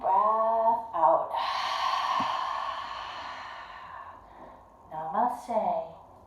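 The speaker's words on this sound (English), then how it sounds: "take a big breath in. Maybe even sweep your arms to the sky. And a big breath out." During a children's yoga story session, a long, voiced, sighing breath out stretches for about three seconds between spoken phrases, close and clear.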